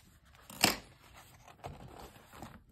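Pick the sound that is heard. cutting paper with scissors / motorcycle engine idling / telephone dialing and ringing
cutting paper with scissors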